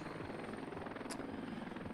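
A helicopter in the video game Heliborne flies at night with a steady, fast rotor chop and an even engine drone. It is soft and continuous, with no speech.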